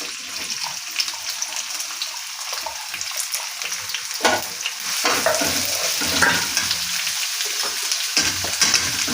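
Green chillies and onion frying in oil for spicy egg bhurji, a loud crackling sizzle with busy stirring scrapes and clatters throughout, close and continuous.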